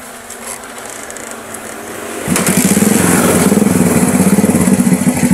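A motorcycle engine fires after a single kick start: a quiet lead-in, then a sudden loud catch into a fast, even, rattling idle that runs on close and alone.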